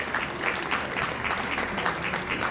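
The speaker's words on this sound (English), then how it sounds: "As we give her another round of applause," An audience at the first annual College of Education (UNICAL) conference gives a speaker steady, moderately loud applause, an even wash of many hands clapping throughout.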